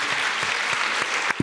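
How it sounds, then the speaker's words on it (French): Applause from an audience at a conference round-table session for three panel speakers, with steady clapping through the room and a couple of louder nearby claps near the end. "On peut applaudir tous les trois,"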